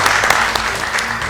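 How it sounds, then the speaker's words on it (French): A short round of clapping from an audience for performer Hervé Ola at a café show, with individual claps standing out against a moderately loud, close crowd. "Applaudissements pour Hervé Ola"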